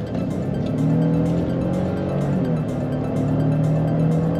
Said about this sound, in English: you gotta rev it up a little bit, but it does go